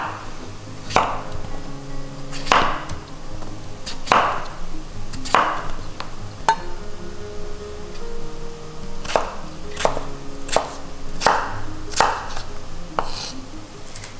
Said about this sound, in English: I'm taking my potato and cutting it into small cubes